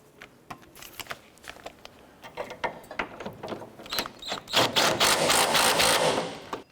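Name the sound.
tightening upper engine mount bolt on Honda Accord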